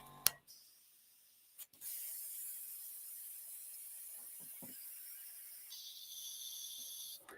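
Airbrush spraying water-based acrylic paint, a faint, steady high hiss lasting several seconds after a few clicks and knocks, with a slight change in tone near the end.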